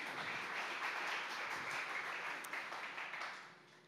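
Faint applause from a church presbytery audience, steady broadband clapping for a few seconds that tapers off toward the end.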